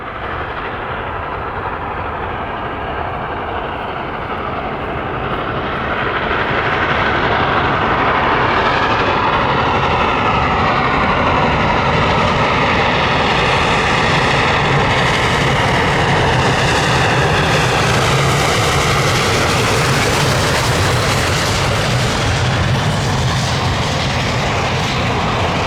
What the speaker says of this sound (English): I went out on a high note as the train screamed through the quiet settlement